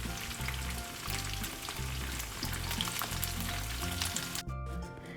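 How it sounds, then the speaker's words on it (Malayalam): Chicken breast pieces fry in hot oil with a dense crackling sizzle close up, a low rhythmic hum running underneath throughout, and the noise briefly dipping near the end. "ചിക്കൻ പീസസ് ഇട്ട് ബാച്ച് ബൈ ബാച്ചായിട്ട് ഫ്രൈ ചെയ്തെടുക്കാം"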